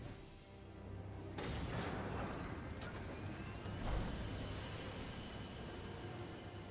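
A train in the video game Final Fantasy XIV: a dense, steady rumble and clatter that swells in suddenly and holds, with a brief heavier surge partway through, loud and continuous with no talk.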